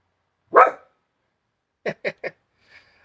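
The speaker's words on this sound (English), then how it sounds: "Dog barked." A dog barks in a quiet room: one loud bark, then after a pause three short quick barks and a faint last yip.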